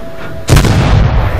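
A single loud, sharp tank gun blast from an SU-85i in World of Tanks, a close booming report with a short rumbling tail.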